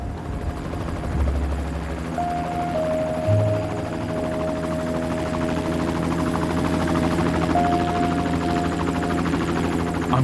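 A small helicopter flies out to the Bishop Rock lighthouse, its rotor and engine drone loud and steady throughout, with no voices over it.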